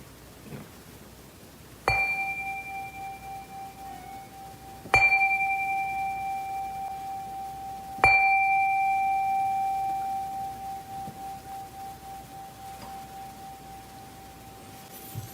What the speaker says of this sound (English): let us prepare our hearts for this hour together with the ringing of the chime